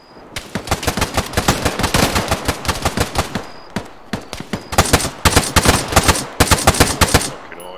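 Bursts of automatic gunfire in ARMA 3 combat, loud and close, coming in rapid strings of shots with brief pauses between volleys and no talking.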